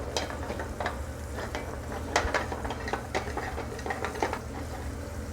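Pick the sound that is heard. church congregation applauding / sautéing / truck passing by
sautéing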